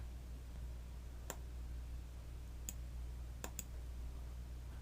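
Computer mouse clicking while working in Cinema 4D: four sharp, isolated clicks spaced irregularly over a quiet, faint background hum, heard alone.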